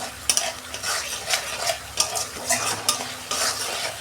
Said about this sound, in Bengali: 2 মিনিট আমি কষে নিই।